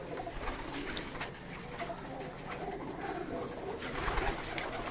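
High-flyer pigeons coo in a Karachi loft, with soft, repeated throaty calls mixed into a dense, busy wash of background noise and chatter from other birds.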